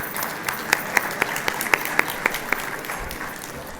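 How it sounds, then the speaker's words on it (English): Audience applause at an awards gala, a dense crowd clapping steadily with a few sharper individual claps standing out, then thinning toward the end. "Please join me in giving them another round of applause."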